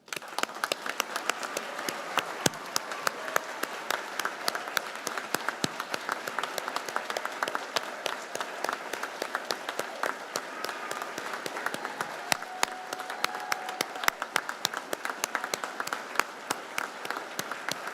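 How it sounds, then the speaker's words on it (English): A crowd at a school completion ceremony gives graduating seniors a final sustained round of applause, even continuous clapping with scattered sharper claps, moderately distant and steady for nearly eighteen seconds. "please turn around and face the crowd so that we can give one final applause for your hard work"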